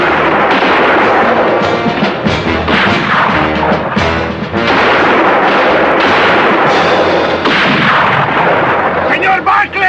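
Rifle gunfire in a western standoff in San Miguel: loud, dense, continuous volleys of shots and booming reports with crashing echoes. Voices shout faintly beneath the fire.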